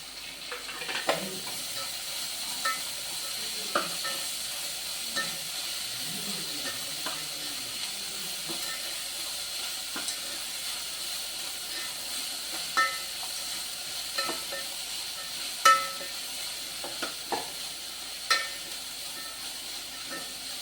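Onions sautéing in a pan for Chettinad pakoda kuzhambu, a soft steady sizzle with scattered scraping stirs and occasional louder clinks of a spoon, moderately close and continuous.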